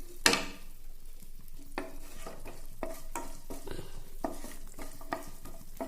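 Garlic cloves fry in oil in a pan for egg roast, a soft steady sizzle broken by repeated scraping stirs of a spoon against the pan, fairly quiet and close.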